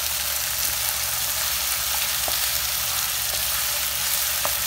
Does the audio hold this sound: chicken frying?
yes